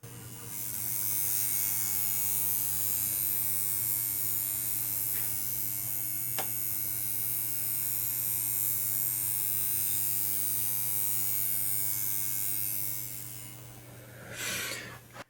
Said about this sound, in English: Let's have a listen to that sound in there.